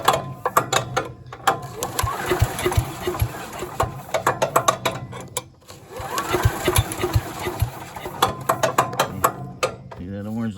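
The starter cord of a small engine that won't run is yanked repeatedly, giving two bursts of ratcheting, clattering pulls separated by a brief pause and then a final tug, close and loud.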